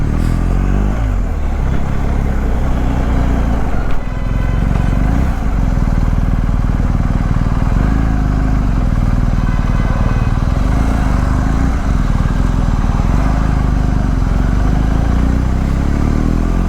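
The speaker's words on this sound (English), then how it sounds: "probably he would hop on and take a quick spin on the bike" A 2022 BMW R 1250 GS Rallye motorcycle being ridden, its engine running steadily and loud throughout with a constant low rumble and some clatter, no talk.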